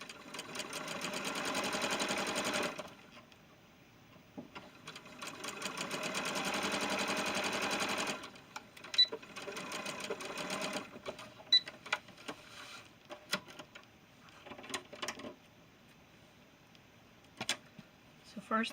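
A sewing machine stitches a seam on a doll gown in two sustained whirring runs, then short stop-start bursts and clicks of the mechanism, close and fairly loud with no talk over it.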